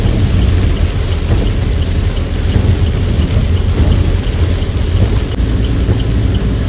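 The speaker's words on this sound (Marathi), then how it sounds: "काय पाऊस आहे हा, काय पाऊस आहे." Heavy monsoon rain pounds down during a thunderstorm on a Konkan road trip from Mumbai to Chiplun, a loud, dense, unbroken roar with deep rumbling underneath, heard from inside a moving vehicle.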